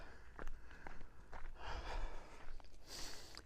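Soft, short snuffling breaths from a dog sniffing close by, with faint footsteps and rustling outdoors.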